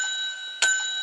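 A single bell struck once mid-clip, worn on top of a costumed character's head in a children's show, a sharp bright strike over a steady tonal hum that rings briefly and fades.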